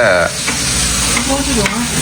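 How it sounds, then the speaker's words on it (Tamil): Fish frying in hot oil, a close, loud, continuous sizzle and crackle with stirring, voices faintly under it. "மீன் கம்மன்னு பொரிக்கிறாங்க"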